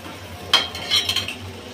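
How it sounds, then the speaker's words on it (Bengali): Jackfruit seeds and potatoes are stirred in a mustard masala gravy, with a single metallic spatula clink against the pan followed by brief soft scraping, all quiet and close. "এই মশলার ঝোলের মধ্যে আমি কাঁঠাল বিচি আর আলুটা আগে কিছুক্ষণ কষিয়ে নেব"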